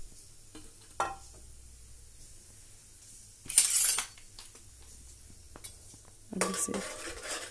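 Chopped onions drop into hot oil for a kidney bean curry, giving a brief burst of sizzling after a metallic clink of utensils, then another short surge of frying and stirring, set against long quiet stretches.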